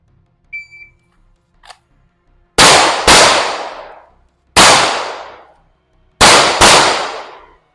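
Five loud, sharp pistol shots ring out during a shooting drill, spaced over a few seconds with one close pair, after faint beeps and a click.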